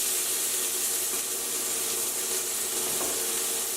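Onion added to olive oil with garlic in a pan for fish sarciado, frying with a steady, moderately loud sizzling hiss and faint crackles throughout, no talking.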